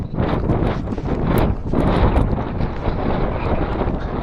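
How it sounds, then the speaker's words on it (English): Strong wind on the way from Roseisle to Burghead buffets the microphone in a constant loud roar, gusting and rumbling throughout with no voices. "Yeah, it's really windy."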